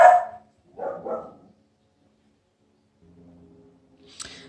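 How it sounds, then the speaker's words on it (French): Dogs barking at home, a loud sharp bark followed by a couple of quicker barks, then quiet with a faint low whine and a brief high yip at the end. "Mes chiens se sont énervés d'un seul coup là."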